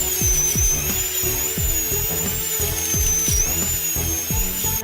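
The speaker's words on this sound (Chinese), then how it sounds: "现在要把窝洞内部打磨圆滑" A dental drill grinds inside a tooth cavity, smoothing its walls. A steady, piercing high whine runs throughout, with a repeating low thudding pulse beneath it, heard up close with no talking.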